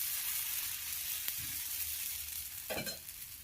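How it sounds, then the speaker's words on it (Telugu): Dosa batter hits a hot pan with a soft, steady sizzle, joined by two brief scraping bursts as the batter is spread, with no talking. "దోసపిండి పెనం పైన వేయాలి."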